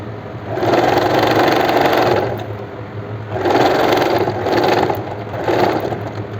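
Sewing machine stitching a seam on palazzo pants, running in three close, loud bursts of rapid whirring stitches with short pauses between them.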